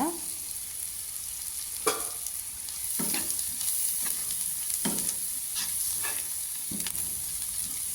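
Onion and garlic sauté in hot oil in a pan for an egg curry, giving a steady bright sizzle broken by several distinct scrapes and stirs of a spoon, close and fairly loud, with no talking.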